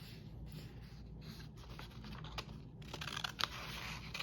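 Scissors fussy cutting a small tree shape out of paper, quiet close-up snips and paper rustles in an irregular rhythm, with no talking.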